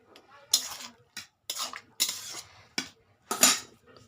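A spoon scrapes and clinks against a pot while stirring sour spinach curry, in a handful of separate strokes with short quiet gaps between them.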